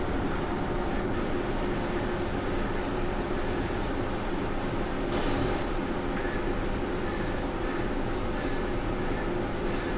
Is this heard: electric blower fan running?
yes